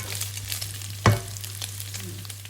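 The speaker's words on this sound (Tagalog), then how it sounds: "Medyo nakakatakot lang magprito kasi tumatalsik ang mantika." Fatty pork sizzles in hot oil with crackling spatters, one sharp pop standing out midway, over a low steady hum.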